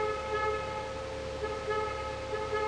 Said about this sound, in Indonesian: ada klakson yang sopan